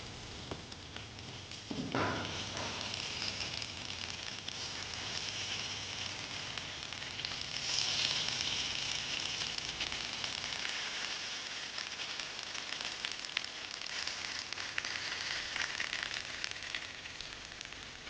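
Kal meen fish wrapped in banana leaf fries on a hot tawa with a steady, even sizzle that holds throughout, broken by one sharper crackle early on. No voices are heard.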